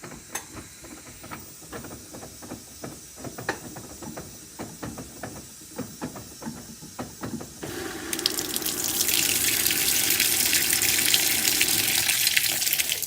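Water runs into an HE washing machine on a cotton normal cycle as it fills, a soft trickle with faint clicks that swells into a louder, steady rushing hiss partway through, with no voices.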